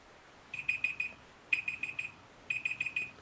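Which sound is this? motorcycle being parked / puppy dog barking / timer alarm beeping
timer alarm beeping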